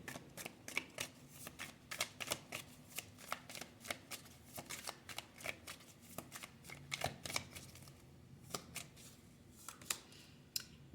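A deck of playing cards shuffled in a series of quick riffling bursts, crisp and close, repeating in rapid irregular clusters with no talking.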